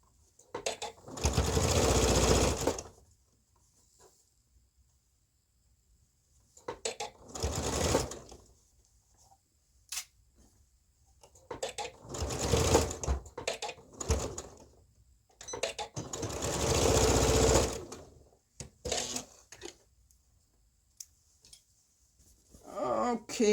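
A sewing machine stitches a jacket in bursts of fast mechanical whirring, several runs of a few seconds each, separated by quiet gaps holding soft handling noises and brief speech.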